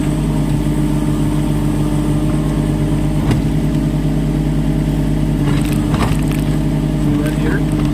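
A Kubota mini excavator's engine hums steadily and close by as the machine swings through its 360-degree rotation, with a few faint clanks and a voice speaking now and then.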